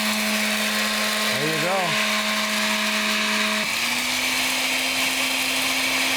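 A blender grinds coriander and cumin seeds with a steady, loud whirring roar that runs throughout and drops in pitch partway as the seeds break down, while a voice speaks briefly over it.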